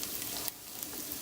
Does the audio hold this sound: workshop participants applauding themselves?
no